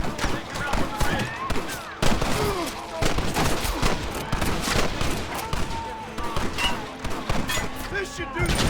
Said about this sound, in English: Marston, use that Gatling gun!